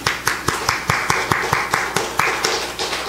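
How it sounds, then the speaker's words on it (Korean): A church congregation claps in a slow, steady rhythm of distinct sharp claps, roughly five per second, close and fairly loud with no talk over it. "여러분 박수 한번 합시다."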